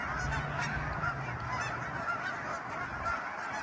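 Canada geese honking on a lake in Texas, a busy chorus of repeated nasal honks overlapping at moderate distance, steady and continuous throughout with no talking.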